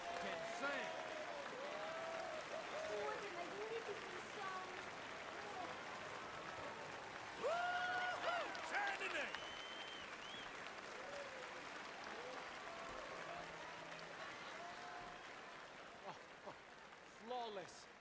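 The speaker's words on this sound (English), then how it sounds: "I tried to applaud." Applause rises from a saloon show audience in Red Dead Redemption 2 and lasts throughout, moderately loud and a bit distant, with spoken voices and a singer over it.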